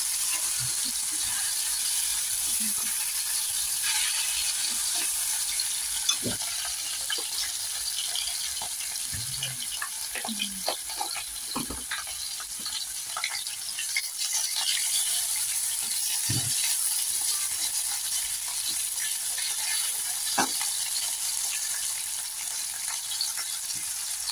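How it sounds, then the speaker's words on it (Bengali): Potato, eggplant and pumpkin slices fry in hot oil with a steady, close sizzle. Occasional soft clinks and stirring knocks punctuate it, and no one speaks. "এই দেখো আলু বেগুন ভাজা হবে, আর এদিকে কুমড়ো ভাজা"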